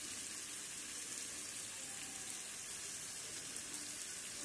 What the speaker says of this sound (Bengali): সেই বাটা মশলাগুলো দিয়ে আমি আলুটাকে ভালো করে নেড়ে চেড়ে কষাবো।